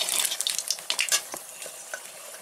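Panch phoron spices crackle and spit in hot oil, sharp sizzling bursts loud and close at first, then thinning into scattered pops.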